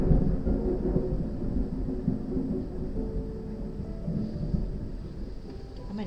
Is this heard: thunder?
yes